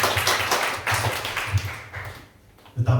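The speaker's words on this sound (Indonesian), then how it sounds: "Berikan tepuk tangan untuk Tuhan Yesus" Scattered clapping from a church congregation, a few quick bursts of hands that fade out after a couple of seconds before a voice returns.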